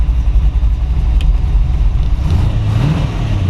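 A 1934 Ford 5W all-steel coupe hot rod engine runs close and loud, a steady low rumble with a brief rise in revs near the end and no talking over it.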